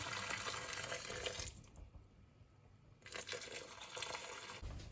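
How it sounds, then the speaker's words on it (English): Hot boiling water pours from a kettle into a cooking pot for a seafood boil, a steady close rushing splash that drops away briefly midway and then resumes, with no voices. "I'm going to add some hot boiling water from my kettle"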